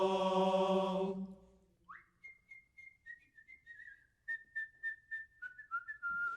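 The Sig Ep fraternity whistle call, a melodic tune whistled alone and fairly close in short separate phrases after a sung choral line about it fades out.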